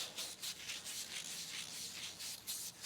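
Scotch-Brite pad scrubbing a brass part of a rare 1950 REO engine with carb spray, a steady rasping rub in quick repeated strokes, close and fairly quiet with no talk.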